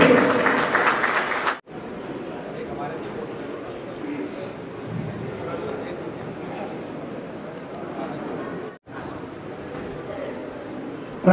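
Audience applause for the trustees at a community foundation-day gathering, a dense, loud wash of clapping from a crowd that holds steady for several seconds with short breaks and murmured chatter underneath.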